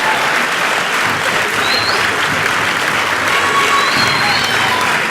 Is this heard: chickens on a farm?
no